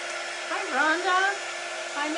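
A hair dryer blows steadily and loudly over a silk screen, a continuous close whirring roar whose pitch wavers slightly as the dryer moves.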